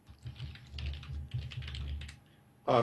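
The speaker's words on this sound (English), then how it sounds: "I'm typing in chat to respond to Nogoth" Rapid clicking keystrokes on a computer keyboard while someone types a chat reply, steady close-up tapping in quick bursts, with a brief louder rustle near the end.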